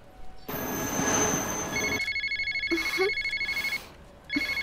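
A telephone rings with a rapid, trilling electronic pattern in repeated bursts, fairly close and clear, following a brief noisy swell.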